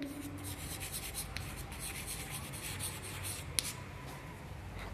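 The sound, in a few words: writing on a board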